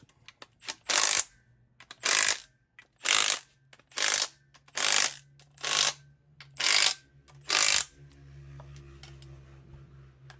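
A ratchet wrench tightens the timing cover bolts on a Ford 5.4 engine, about eight evenly spaced loud clicking pulls in a steady rhythm, then a quieter faint hum.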